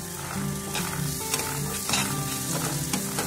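A little oil heating in a frying pan while Bombay duck fish curry is made: a continuous close crackling sizzle with faint utensil clinks now and then, no voices.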